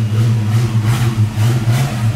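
A prize-winning classic car's engine revs loud and close, a smooth, steady low rumble swelling and easing in gentle surges, with no talking over it.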